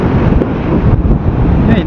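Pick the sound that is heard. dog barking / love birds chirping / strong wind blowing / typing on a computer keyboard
strong wind blowing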